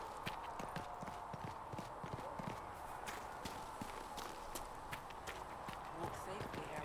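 Horse hooves clip-clop at a steady walking pace over ground in Dragon Age: Inquisition, heading back to the Hinterlands, with faint background ambience and no talk.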